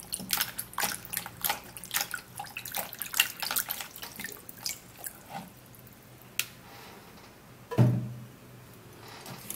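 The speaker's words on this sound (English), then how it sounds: "So I'm going to be washing the tomato." Tomatoes get rinsed under running water, with splashes, drips and wet squishing up close at moderate volume. The busy handling early on thins out into quieter trickling, broken by a louder splash near the end.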